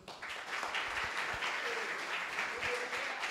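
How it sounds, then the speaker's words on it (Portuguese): A church congregation applauding during a family worship service, a steady crowd of hands clapping at moderate loudness with a faint tonal voice or instrument briefly beneath. "Aplauda mais forte ao Senhor"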